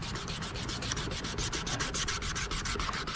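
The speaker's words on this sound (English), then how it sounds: "with each sandpaper grain you go, you'll notice that the amount that comes off is less and less" Wet sandpaper is worked back and forth over a cloudy plastic speedometer gauge lens from a Yamaha Wave Raider. Rapid, even strokes give a close, gritty scratching, roughly six or seven per second, with no other sounds.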